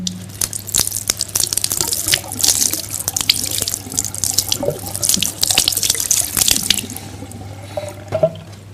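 Water poured over hands during wudu ablution, a steady splashing stream like a running tap into a sink with drips, close and fairly loud, then tapering off near the end.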